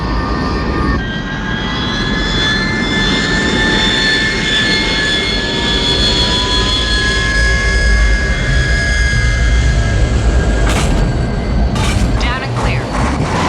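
Dropship from the film Aliens setting down on a landing grid, a loud sustained jet engine roar with whining tones that slide in pitch, plus brief sharp bursts near the end, with radio voices talking over it.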